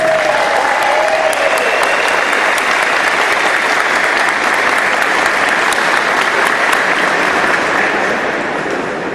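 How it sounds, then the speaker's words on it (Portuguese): A crowd at a university rectorship election debate breaks into sustained, loud applause, a thick, even roar of many hands clapping that holds steady throughout and fades only slightly at the end. "parabenizar a Francine com uma grande salva de palmas"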